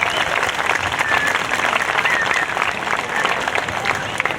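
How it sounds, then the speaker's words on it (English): At a spring band concert, an audience applauds the parents in a loud, continuous round of clapping, with a few voices and whoops mixed in. "Let's give them all a round of applause"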